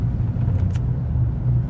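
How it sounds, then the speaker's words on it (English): A small Acura car driving past, heard as a low, steady rumble of engine and road noise that stays fairly loud throughout. "That was a little Acura, some little rice rocket type of car."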